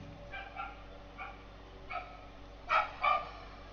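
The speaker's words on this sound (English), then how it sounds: "Dog's barking." Dog barking in the distance, several faint yips and barks spaced unevenly, growing to two louder barks near the end, heard indoors against a quiet room hum.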